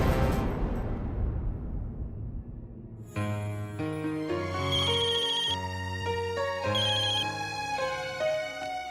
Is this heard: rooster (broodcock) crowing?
no